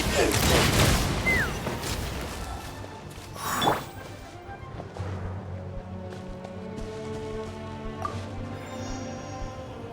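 A gunfire barrage in the Genshin Impact video game, with a dense burst of loud blasts and crashes, one heavy impact, then ringing debris and a fading rumble.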